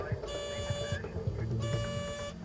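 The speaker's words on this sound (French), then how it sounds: "Un signal d'alarme prévient l'équipage de la défaillance d'une des pompes carburant." Cockpit warning alarm aboard a Boeing 767 signalling fuel pump failure, two sustained electronic buzzing tones separated by a short gap, loud and close, with a low voice under it.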